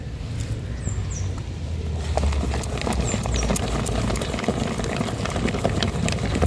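Lentil paste with black cumin and salt being beaten by hand for Medinipur goyna bori: a rapid, steady run of soft slapping strokes close by, with faint birdsong in the background.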